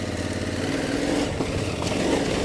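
A motorcycle carrying Mosko Moto luggage rides along with a steady mid-pitched engine drone. Wind and road noise mix in, and the engine has a slight revving swell, continuous and fairly close.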